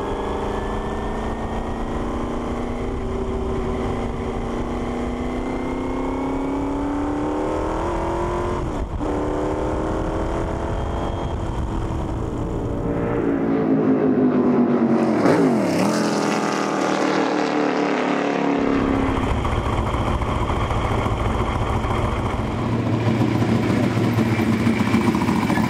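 A 1968 Lola T-160 Can-Am race car runs on track, its engine droning steadily with rising and falling pitch as it passes, loud and continuous.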